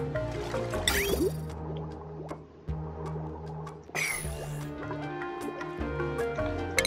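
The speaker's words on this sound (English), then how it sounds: "I'll just suck up that little bit of dirty water too while I'm at it." Dirty water being pumped up inside the colony-building game Oxygen Not Included, with repeated wet drips, squishes and gurgles over a steady layered game soundtrack, a couple of bright splashy bursts standing out.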